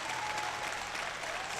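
The crowd at the World Classic Powerlifting Championships applauds a lifter with a continuous, fairly distant wash of clapping that stays even throughout the short moment.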